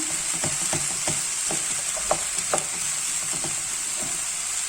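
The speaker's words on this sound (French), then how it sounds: "on laisse caraméliser les oignons" Onions caramelizing in a frying pan while a wooden spoon stirs them, a steady sizzle broken by a rhythmic series of soft scraping taps, close and clear.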